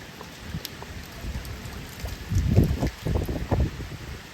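Strong typhoon wind from Typhoon Kristine blows in a steady broad roar with heavier gusts and buffeting thumps on the microphone, the rush of rain mixed in, with no voices.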